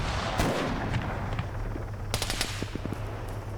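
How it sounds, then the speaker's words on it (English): Rapid gunfire crackles in an Arma 3 King of the Hill match, a dense spray of automatic shots mixed with sharp distant cracks and heavier thuds, rattling steadily throughout. "we've definitely got shots coming in"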